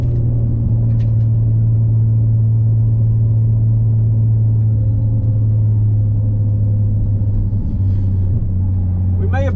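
A Nissan 350Z on a sprint run at Curborough in June 2024 produces a loud, steady low engine drone heard from inside the car, holding a constant rumble throughout with only slight shifts in pitch.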